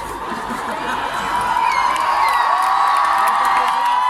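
Audience shrieking and cheering at an outdoor concert on Palace Square in Saint Petersburg, a loud sustained crowd roar with high squeals rising over it.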